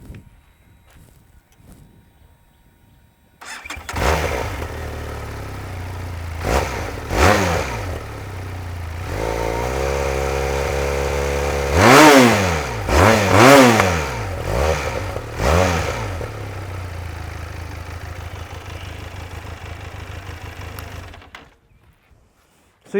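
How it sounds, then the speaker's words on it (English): A 2021 Benelli TRK 502 parallel-twin motorcycle engine revs repeatedly, climbing and falling in pitch several times in a series of loud throttle blips, then settles and cuts off. "this thing is a parallel twin, but it definitely does sound like an inline 4 engine"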